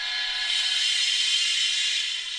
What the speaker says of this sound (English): Give a whistle.